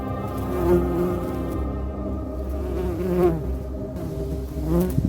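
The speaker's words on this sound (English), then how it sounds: "The Asian giant hornet is not just an impressive insect." A steady, droning Asian giant hornet buzz with a rich harmonic hum, close and continuous, rising and falling slightly in pitch.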